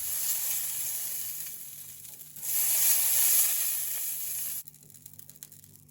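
Spinach and oats crepe batter cooks in a buttered pan with a steady hissing sizzle that swells midway, then drops to a quieter fizz with small pops near the end.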